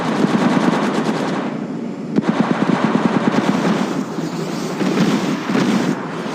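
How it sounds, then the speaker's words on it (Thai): Rapid automatic gunfire in the mobile battle-royale game Apex Legends Mobile, loud, dense bursts of shots with a brief pause near the middle, then more sustained firing, with no talking. "เรากำลังโดนยิง"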